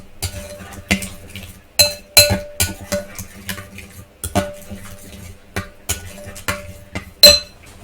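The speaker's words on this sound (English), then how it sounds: "So I'm stirring this up good." A spoon clinks and scrapes against a bowl while a pumpkin pie mixture is stirred, giving irregular sharp metallic taps and rattles, close and clear with no talking.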